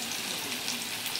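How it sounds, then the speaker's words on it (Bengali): Paneer cubes fry in oil in a pan for matar paneer, a steady, hissing sizzle that stays close and even throughout. "যতক্ষণ না লাল হচ্ছে ততক্ষণ একটুখানি পনিরগুলোকে আমরা ভেজে নেব"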